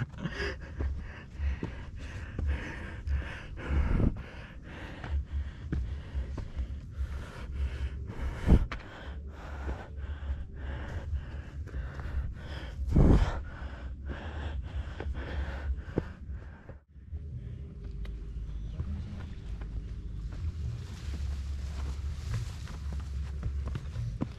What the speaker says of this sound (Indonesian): Setelah itu ngos-ngosan dan ngap-ngapan semua.